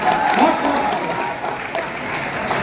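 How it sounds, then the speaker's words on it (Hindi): Audience applause at a mushaira in Deoband, steady dense clapping from a large crowd throughout, loud and close, with faint voices mixed in. "जोरदार ताली बजाइए"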